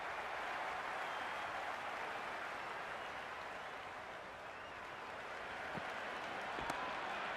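A cricket stadium crowd at an IPL match between CSK and MI keeps up a dense, continuous roar of cheering and applause, loud and sustained throughout.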